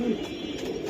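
Pigeons at a Bengali market stall selling fancy breeds such as Giribaz and silver pigeons coo steadily at close range, a low throaty warble running continuously through the whole second with no talk.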